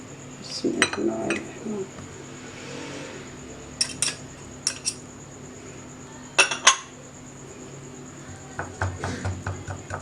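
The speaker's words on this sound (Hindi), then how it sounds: "अब आप इसमें मैदा मिक्स कर दें।" Flour being mixed into pancake batter in a bowl, heard as scattered spoon clinks and taps against the bowl between quieter gaps, close by and without speech.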